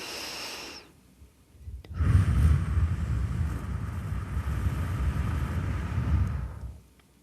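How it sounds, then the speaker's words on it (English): A slow, deep breath taken in a calm guided breathing exercise: a close, steady airy rush that swells and holds for about five seconds before fading, with a short quiet breath just before it. "please take a slow, deep breath with me"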